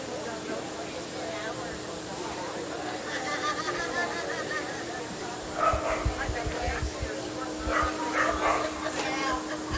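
Dogs yip and bark intermittently at a dog show where toy poodles and Bichons are present, moderately near amid constant crowd chatter and talk, with a burst of barking in the second half.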